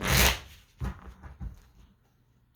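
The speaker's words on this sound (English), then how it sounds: "This shuffle is very difficult right now." A deck of tarot cards is shuffled by hand, one long riffle followed by two shorter bursts of shuffling, close up with no talking.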